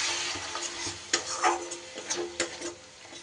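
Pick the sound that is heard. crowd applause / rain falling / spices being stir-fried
spices being stir-fried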